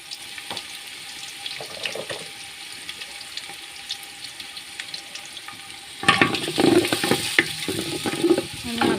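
Onions frying in oil with bay leaf, cardamom and cinnamon, a low sizzle that grows louder and busier after about six seconds with stirring and scraping in the pan.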